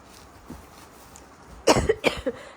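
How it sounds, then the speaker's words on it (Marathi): A woman coughs a few times in quick succession, loud and close, after a quiet stretch of room tone; she has been feeling unwell. "इतका खोकला झाला मला की बस"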